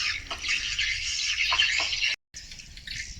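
Swiftlets call around a bird house in a dense, continuous stream of high, scratchy chattering and twittering. The calls carry steadily for about three seconds, broken only by a brief gap of silence near the end.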